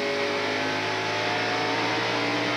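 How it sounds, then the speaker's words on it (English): Rusty Wallace's race car at Phoenix International Raceway in 1992 revs steadily as the throttle is fed back in, a loud, continuous high engine drone heard close from onboard, with no talking. "Feeds the throttle back in."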